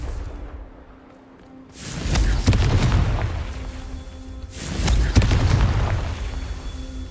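Repeated Confringo fire spell blasts in the video game Hogwarts Legacy, two heavy booming explosions with crackling bursts, each rumbling on for a couple of seconds, loud and close over quiet game ambience.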